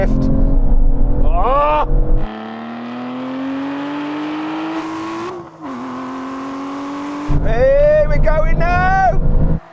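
Aston Martin cars at a drag race, engines roaring loud and close as they launch with wheel spin, revs sweeping up through shifts, with excited shouting over the noise.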